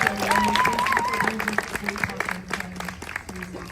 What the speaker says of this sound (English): So let's give Henry a big applause